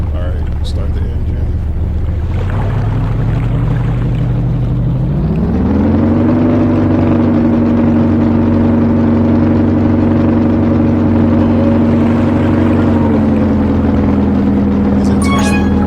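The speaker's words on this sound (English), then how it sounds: "Alright, start the engine." A boat engine in the sailing game eSail Simulator settles into a low idle, then its drone rises in pitch as it revs up and holds a steady, loud hum, with a few faint clicks near the end.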